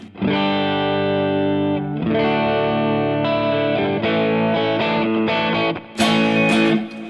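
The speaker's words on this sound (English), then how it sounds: "So the actual chorus does sound a little different running off this stereo mode 2." Electric guitar played through a vintage BOSS Chorus pedal in stereo mode 2, sustained distorted chords shimmering with a chorus effect, loud and continuous with a brighter strummed accent near the end.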